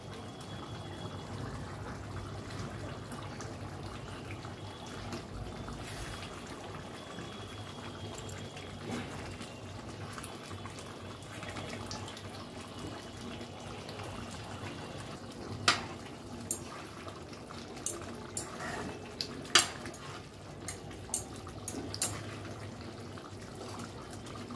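Meat with green chillies simmers in a covered pot, giving a faint, steady bubbling hiss. Soft scattered pops grow more frequent toward the end.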